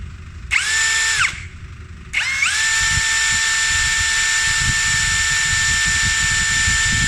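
A Yasuka YID-318CB cordless impact drill spins up with a brief whine, stops, then starts again and runs steadily at a high, even pitch, loud and close, with no voices.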